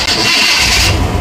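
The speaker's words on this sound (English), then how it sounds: "Classic starter sound." Chevrolet Tahoe engine cranking on its starter and catching, a loud close burst of mechanical whir that settles into a low engine rumble within about a second.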